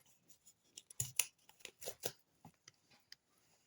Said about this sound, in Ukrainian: давайте спочатку відкриємо пакетик